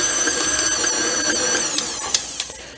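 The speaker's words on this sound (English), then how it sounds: "we're just going to turn it on and give it a mix" An electric mixer whirs steadily through banana bread wet ingredients, a close whining mechanical hum with faint rattling ticks and a few sharp clicks near the end, no talking.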